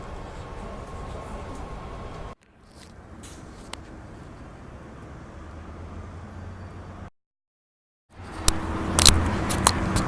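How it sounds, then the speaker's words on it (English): Steady rumble of a moving train on the way to Universal Studios, heard from inside the carriage, with broadband rolling noise that drops out briefly and returns louder with clattering toward the end. "I'm now on the train heading to Universal Studios"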